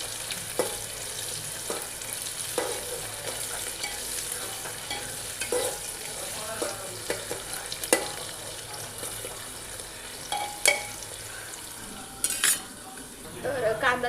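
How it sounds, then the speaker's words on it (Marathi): Onions sauté in a pan for masala rice, a steady sizzle broken by repeated scrapes and clinks of a spoon stirring against the metal, close and clear, with no talk. "कांदाही आपल्याला लालसर होईपर्यंत परतून घ्यायचं आहे."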